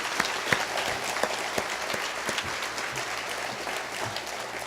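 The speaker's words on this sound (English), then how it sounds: "So I want to give them a round of applause" Audience applause at a public anniversary ceremony, a steady wash of clapping from a large crowd filling the room, moderately loud and continuous with a few sharper nearby claps standing out.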